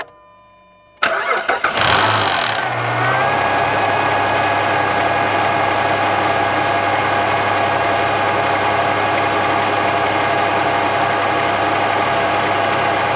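A 2007 Jeep Liberty 3.7L engine turns over and starts, then settles into a steady, loud idle hum that runs without a break to the end.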